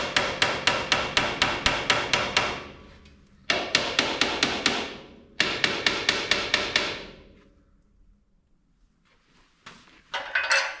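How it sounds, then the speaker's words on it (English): A hammer strikes a blunt chisel on a 1928 Allis Chalmers 20-35 tractor, delivering three loud rapid bursts of about ten ringing metallic blows each with short pauses between, then a few faint taps and a final burst, with no talking. "Let's see if we can persuade it off of there with the chisel. This is a pretty blunt chisel."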